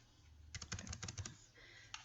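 Name typed on a computer keyboard, a quick burst of about a dozen crisp key clicks followed by a pause and one final tap, close and fairly quiet.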